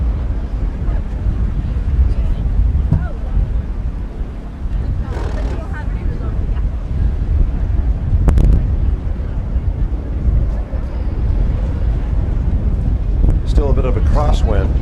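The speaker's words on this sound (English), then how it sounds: "Still a bit of a crosswind." Crosswind buffets the microphone at a collegiate women's rowing regatta course before a race start, a steady low roar with gusty rumbles throughout and a voice speaking over it.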